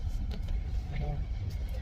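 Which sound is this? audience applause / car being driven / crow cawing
car being driven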